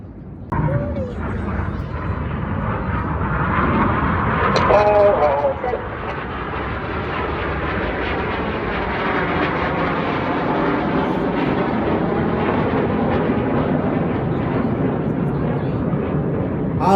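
RAF Red Arrows jets flying an airshow display over Blackpool: a loud, sustained roaring jet rumble that swells and holds steadily for the whole stretch, with a commentator speaking over it.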